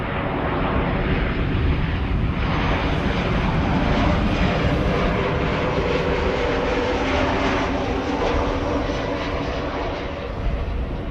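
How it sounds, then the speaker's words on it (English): A Transavia jet lands at Amsterdam Schiphol, arriving from Stuttgart, a loud, sustained engine roar that stays close and steady for the whole stretch and fades only slightly near the end. "Transavia up next, flight 94"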